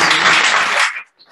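Brief burst of audience applause from a seated crowd at a live talk event, a dense wash of many hands clapping that cuts off abruptly after about a second.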